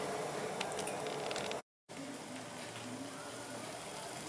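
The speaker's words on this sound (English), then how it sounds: "There. Nice hot boiling water." Hot water boils on a stovetop, a continuous bubbling and hissing texture with dense small pops, held at a low, steady level with a brief dropout midway.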